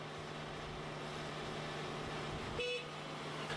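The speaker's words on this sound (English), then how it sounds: "Use the horn to stop him." A wheel loader's horn toots once, briefly, over steady engine rumble at a truck loading site, signaling the truck driver to stop.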